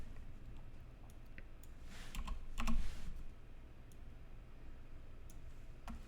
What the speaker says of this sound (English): I'm gonna type this for loop and overwrite this code.